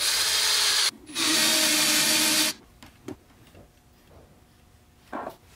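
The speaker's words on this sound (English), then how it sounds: "this is a 3/8 drill bit that I am using" A power drill with a 3/8 drill bit whirs in two loud bursts into a custom swimbait fishing lure, then stops, followed by a few faint clicks and taps.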